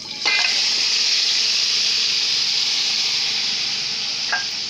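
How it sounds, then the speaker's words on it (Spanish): Beef tendon and cow's foot drop into a hot pot for soup with a sudden sizzle, then a loud, steady frying hiss that goes on without talk, and one small clink near the end. "Vamos a agregar la carne."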